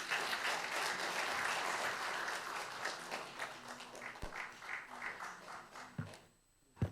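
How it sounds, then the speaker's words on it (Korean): Sustained audience applause fills a formal founding ceremony honouring an independence activist, dense and steady at first, then thinning into scattered claps before fading out near the end. "큰 박수 부탁드립니다."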